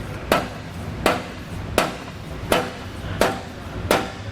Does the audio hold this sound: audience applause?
no